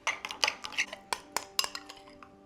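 Jam being stirred in a bowl for a cake, a quick run of sharp spoon clinks and scrapes against the bowl, close and fairly loud, with no talking.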